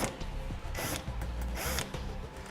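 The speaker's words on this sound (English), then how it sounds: "Then we can remove the two T20 Torx screws." A power driver backs out T20 Torx screws on the front bumper of a 2012 GMC Terrain in a garage, with two short bursts of whirring and light scraping handling noises between them.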